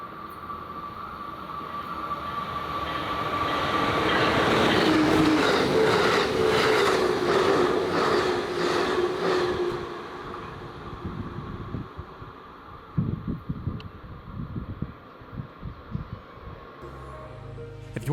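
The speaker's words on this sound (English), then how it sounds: "Amtrak's Pacific Surfliner does not stop here, which sounds weird until you see one fly by at 90 miles an hour" An Amtrak Pacific Surfliner train rushes past at about 90 mph, a swelling roar of wheels and rail clatter that peaks mid-pass, then trails off into lighter clicks and rumble as it moves away.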